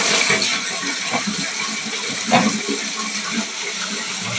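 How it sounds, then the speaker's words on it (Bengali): A newly fitted bathroom flush tank releasing water, a loud rushing gush and splashing into the pan that carries on steadily, with a brief clunk partway through. "এই ফ্লাশ ট্যাঙ্ক আজকে ফিটিংস করেছি। দেখুন, পানি আসে।"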